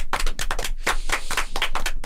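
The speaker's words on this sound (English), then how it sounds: "Let's get a round of applause for Zach's." A short burst of applause, several people clapping steadily and fairly close, no voices.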